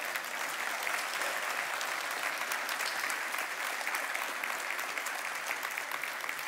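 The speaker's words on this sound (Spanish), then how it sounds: "Y un aplauso fuerte también ustedes." A church congregation applauds loudly and continuously, a dense wash of many hands clapping at once that holds steady throughout.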